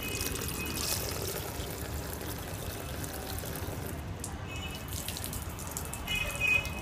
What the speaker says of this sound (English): I will throw this pump into the water to show you the real performance of its normal work.